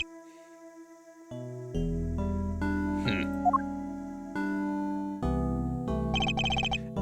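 A phone in the Ace Attorney video game rings as a series of electronic chime tones over layered game music, followed by rapid bright trilling notes near the end, loud and with no talking.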